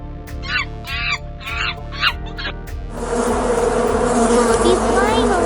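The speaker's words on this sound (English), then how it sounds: "Bee flying around blue flowers." A bee flying around blue flowers buzzes loudly and steadily in the second half, after a run of short, evenly spaced calls.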